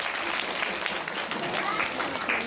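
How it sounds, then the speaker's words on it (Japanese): The audience at a Turtle Talk show at Tokyo DisneySea applauds two guests, a continuous dense wash of clapping with voices mixed in. "みんな二人に拍手してくれ。"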